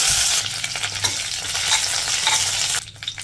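Torn dried red chilies drop into hot oil with curry leaves, a loud, close crackling sizzle with stirring that eases off near the end.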